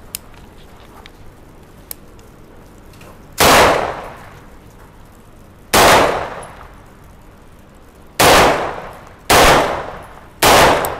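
Gunshots fired at a shooting competition: five sharp, loud reports spaced unevenly across the span, each with a short decaying tail, over a low background hum and no talking.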